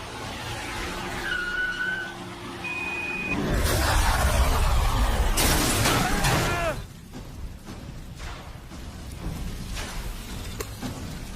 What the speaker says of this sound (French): Démarre cette putain de voiture, connard!